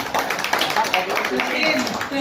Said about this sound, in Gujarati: જોરદાર તાળી થઈ જાય.